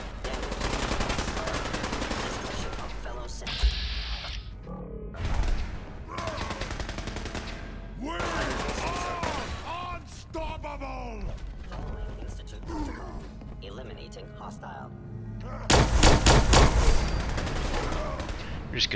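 Gunfire during combat in the video game Fallout 4: scattered sharp shots and rattling bursts mixed with mechanical clatter, with a louder flurry near the end and game voices talking between the shots.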